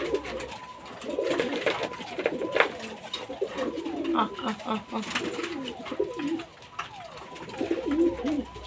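Adult pigeons coo inside a cage before feeding, soft repeated low calls layered with wing flutters and shuffling throughout, fairly close and steady.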